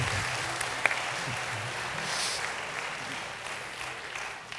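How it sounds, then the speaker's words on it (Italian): Continuous applause from the audience at a Rotary International district assembly in Vicenza, a dense, even wash of clapping throughout with one sharp click early on. "un applauso a questi giovani"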